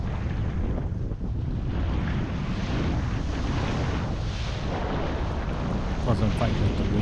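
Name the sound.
wind while kitesurfing at the beach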